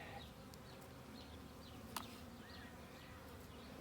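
Honey bees from a six-week package hive buzzing during an inspection, a continuous close, steady drone with scattered individual bees flying past and one brief knock, no talking.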